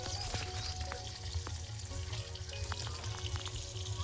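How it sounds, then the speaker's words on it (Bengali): Fish sizzles in hot oil in a pan, a steady close frying hiss with faint clinks over a low background hum. "বাবা এখন মাছ ভাজছে"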